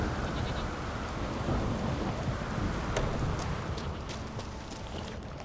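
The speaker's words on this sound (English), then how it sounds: "Not protecting much from the rain here," Steady, dense rainfall in The Witcher 3 video game, a continuous hiss with scattered sharper drips and spatters, fairly loud and unbroken throughout with no talk.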